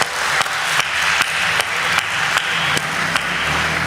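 An audience at a Hindi comic poetry gathering claps continuously, a close, steady roar of applause punctuated by a few sharper clap-like knocks at regular intervals.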